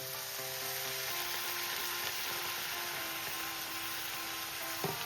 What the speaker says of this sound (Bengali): দেখো গাজরটা কিন্তু হালকা ভাজা হয়ে গেছে।